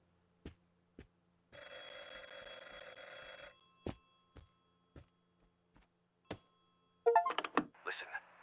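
A telephone rings in a video game with one continuous electronic ring lasting about two seconds, among sparse clicks and thuds, and a voice speaks briefly at the end.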